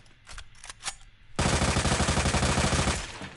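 Resident Evil 2 Remake gunfire starts with a few scattered sharp shots, then breaks into a loud, dense burst of rapid automatic fire lasting about two seconds before tailing off.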